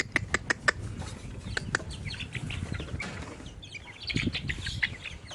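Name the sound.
chickens pecking and eating tomatoes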